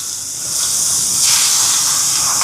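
Grated carrot dropped into a hot pan sizzles with a loud, steady hiss that swells and holds for a couple of seconds, with no talking over it.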